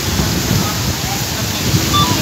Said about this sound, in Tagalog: Naban lang mar, kusog kayong ulan.